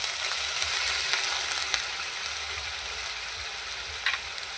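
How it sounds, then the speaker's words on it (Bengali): Spice paste is stirred in a hot pan and a little water is added, giving a steady bright sizzle with faint scraping of the stirring, close and fairly loud, with no talking. "ভালো করে নেড়ে দেবো আর একটু জল দিয়ে দেবো"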